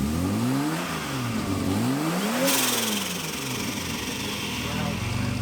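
A K20 turbo engine in a Mk2 Escort revs through the exhaust, its pitch sweeping up and down in repeated rising and falling runs, loud and close, with a burst of noise midway.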